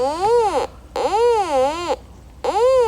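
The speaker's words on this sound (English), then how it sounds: "We'll get the metal detector back out. And let's see if we get any more beeps." Electronic beeps from a metal detector swept over a walnut log, three loud warbling tones rising and falling in pitch, each lasting about half a second with short silent gaps between them.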